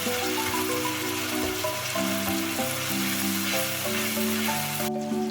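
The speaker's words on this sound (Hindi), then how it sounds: "बस उस वक्त तक फ्राई करें जब तक प्याज और टमाटर एक जान ना हो जाए।" Onions and tomatoes fry together in a pan for a spicy mutton karahi, giving a steady, soft sizzle and crackle that runs unbroken, with music playing over it.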